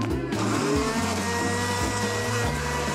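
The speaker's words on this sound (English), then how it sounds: "I'll put it in the blender." A blender whirs steadily while blending banana, kiwi and raspberries, a loud motor drone with shifting pitch that runs throughout.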